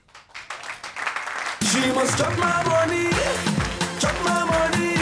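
Live comedy audience clapping for comedian Kassala, swelling quickly from scattered claps into dense applause for about a second and a half before loud music comes in over it.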